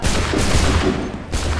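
A musket volley in Assassin's Creed 3, a dense, loud crackle of many muskets firing together that fills most of the moment, fading briefly before a final burst.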